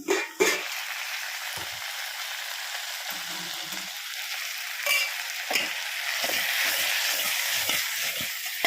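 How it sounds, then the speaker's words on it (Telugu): Lentil dal for a mango and drumstick sambar simmering in a pot, with a steady hiss and bubbling and a few soft clinks and stirring knocks over it. "పప్పు అయితే కాగుతుంది"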